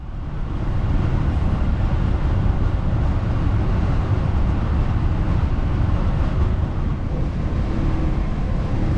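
Old FlixTrain coaches running at speed through Sweden, giving a steady, dense low rumble of wheels and carriage noise that holds evenly and loudly throughout with no talking.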